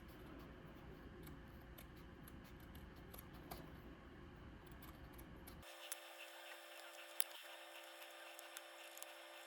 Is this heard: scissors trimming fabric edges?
yes